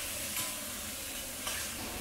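Shiitake mushrooms and dried shrimp hit a pan over high heat, giving a steady, moderate sizzle with a couple of brief stirring scrapes.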